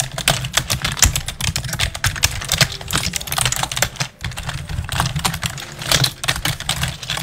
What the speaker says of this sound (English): For a little bit of extensive typing.